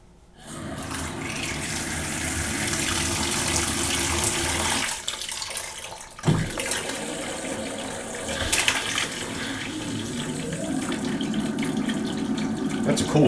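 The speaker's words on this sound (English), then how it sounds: "That's a lot of water." Water gushing strongly from a newly installed bathroom sink faucet, a loud steady rush that stops briefly midway, then resumes with clunks of handling and shifting flow.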